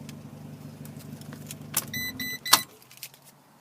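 2013 Fiat 500 Abarth with 1.4-litre inline four-cylinder engine idling with a low hum, then cutting off as the ignition is shut down, with a brief metallic jangle of keys near the end.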